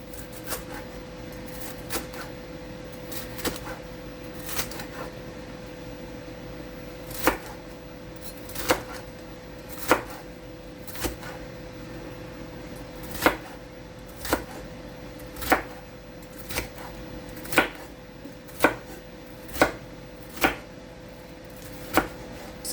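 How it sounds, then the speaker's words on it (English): A knife chops through a large bell pepper on a cutting board, firm crisp thuds landing in an irregular, quickening rhythm, close and clear over a quiet kitchen background with no talking. "So I'm going to cut it this way, just because it's so big"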